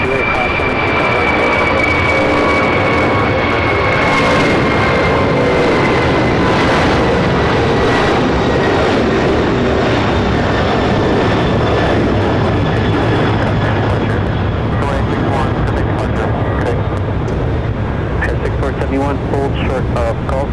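A Boeing 747 jet at LAX roars steadily and loudly throughout, a broad sustained engine rumble with a high whine, while talk and radio chatter run underneath.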